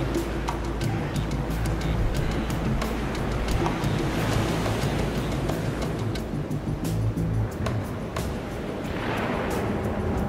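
Massive ocean waves crash in an extreme big-wave surf zone, a loud, continuous roar of surf and turbulent water with wind rumble throughout, close and unbroken for the whole stretch.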